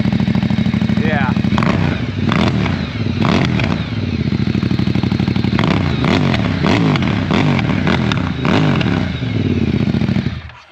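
A 2024 Ducati Diavel V4 motorcycle engine running nearby, loud and close, with repeated sharp revs rising and falling over a rough idle, voices talking over it at times.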